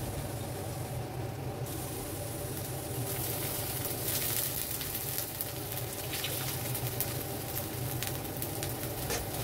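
Onions and ginger-garlic paste frying in oil for street-style pav bhaji, a steady dense sizzle with fine crackle running throughout, fairly loud and close, with no talking.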